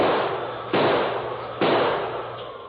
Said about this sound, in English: he pulled the heavy 6-gun from under his mackinaw and began firing.